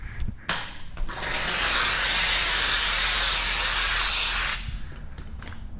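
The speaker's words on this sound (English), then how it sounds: "So we're gonna get a little steam on there." A handheld steamer hisses steadily for about four seconds while steam is applied to paint protection film on a Harley-Davidson motorcycle, with a few light knocks and handling sounds before and after.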